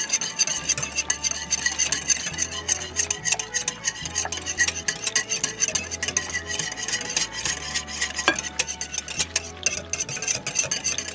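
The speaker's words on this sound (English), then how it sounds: "we're going to take the whisk and we're going to start putting this all together like this till it's nice and creamy" A whisk works a thick, creamy homemade casserole mixture in a bowl, scraping and clicking rapidly and continuously against the sides, close and fairly loud, with a low hum running underneath.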